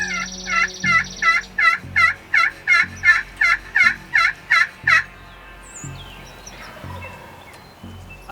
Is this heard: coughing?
no